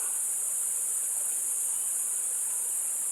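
Steady, even rush of flowing water from a stream at Maharlika Falls, a continuous close hiss with no breaks and no voices over it.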